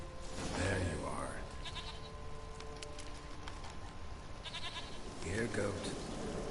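Goat bleats in the video game Witcher 3, two wavering cries near the start and end, set against quiet rural ambience, with faint ticking and tonal background sounds between them.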